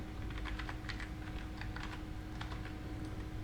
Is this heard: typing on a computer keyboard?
yes